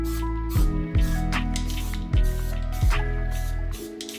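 Spray paint hisses from a can inside a garage in several short bursts, each burst a breathy rush over a steady low hum of background equipment, with no speech.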